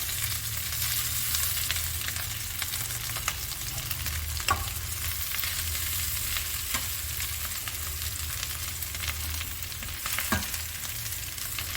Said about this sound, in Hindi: अब इनको मैं डालती हूँ इस प्याज में।